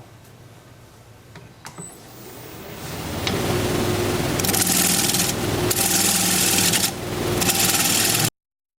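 Wood lathe spinning at 1200 RPM while a tool cuts a live-edge rectangular bowl, a steady close whirring rush that swells and holds loud for several seconds, then stops abruptly.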